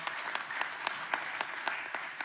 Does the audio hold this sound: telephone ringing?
no